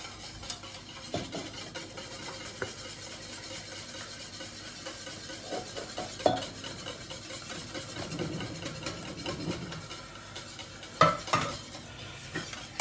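A whisk or spoon stirs hot lemon juice into beaten eggs in a bowl for a lemon meringue tart, a soft steady scraping with a few sharp clinks of utensil against the bowl.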